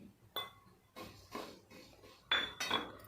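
Cumin seeds, along with shahjeera, dry roasted in a pan for a homemade black masala spice blend: a few sharp metallic clinks and scrapes of a utensil against the pan, spaced irregularly over a quiet background.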